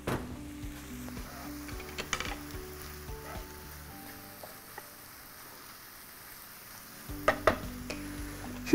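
Chicken pieces for a creamy mushroom chicken dish cook in a pan, a faint sizzle under scattered clinks and scrapes of a utensil stirring against cookware, with a louder burst of stirring near the end.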